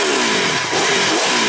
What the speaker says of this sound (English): Gosh, listen to that V4.